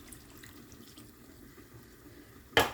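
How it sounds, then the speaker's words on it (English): Faint kitchen background noise, then a sudden splash of about 2 cups of water pouring into a pan near the end, loud and close. "Once you add it to your pan, add about 2 cups of water."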